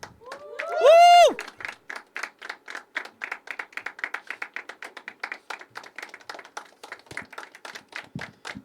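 An audience at a poetry open mic at The Habitat claps steadily, a crowd's scattered hand claps continuing for several seconds after a brief voice, fairly close and clear.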